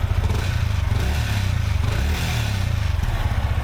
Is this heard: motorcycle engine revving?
yes